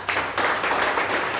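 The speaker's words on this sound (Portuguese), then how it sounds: "Aplauda o Senhor" A church congregation applauds during a worship service, a steady dense wash of clapping filling the room, fairly loud and continuous after a brief start.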